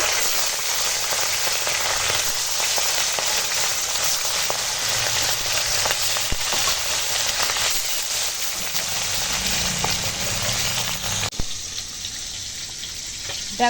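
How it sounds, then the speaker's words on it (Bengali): Katla fish pieces coated in salt and turmeric frying in hot oil, a loud, steady hissing sizzle that fills the whole stretch without a break and drops off sharply near the end. "তেল হয়ে গেছে গরম মাছ ভেজে নেব দেখো"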